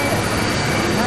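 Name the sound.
aeroplane engine noise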